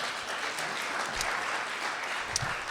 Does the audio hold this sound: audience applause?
yes